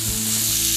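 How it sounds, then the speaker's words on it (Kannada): Chicken sukka with grated coconut and fresh coriander sizzles steadily in a hot pan as it is stirred, a close, continuous frying hiss with no talk. "ಕೊತ್ತಂಬರಿ ಸೊಪ್ಪು ಹಾಕಿ ಒಳ್ಳೆ ಮಿಕ್ಸ್ ಮಾಡಿದ್ದೇನೆ."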